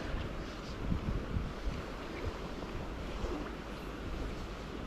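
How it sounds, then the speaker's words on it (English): Wind gusts across a river during late-season trout fishing in Austria, a continuous rough rumbling buffet against the microphone with no distinct events and no talking. "there's the wind blowing it into my face now"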